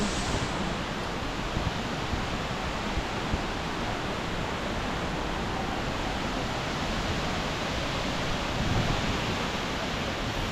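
Rani Duduma waterfall in Koraput, Odisha, a steady, dense roar of falling water filling the whole stretch without letup, close and loud.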